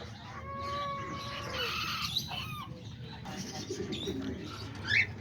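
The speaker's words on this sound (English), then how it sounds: "And here's the cockatiels. I sure have a whole bunch of them in here." A flock of cockatiels chirps and whistles inside an aviary alongside doves, with overlapping calls and soft coos at close range and no talking.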